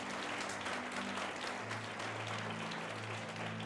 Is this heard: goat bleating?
no